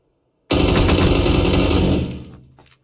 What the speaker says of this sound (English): So I switch to the AUG and make sure it's on auto.